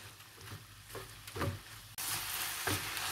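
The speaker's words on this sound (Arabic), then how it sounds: "غادي نقلب في هاد المكونات حتى كنشوف انا" Chicken filling ingredients being stirred in a hot pan, a soft sizzle with several scraping strokes, and the frying noise grows louder and brighter partway through.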